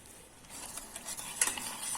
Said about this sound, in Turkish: Ve şimdi karıştıracağım